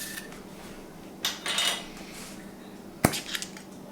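A container of cooled, rendered lard is popped open, giving a sharp snap near the end after a couple of softer handling rattles, with no talking.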